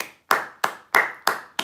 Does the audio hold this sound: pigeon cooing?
no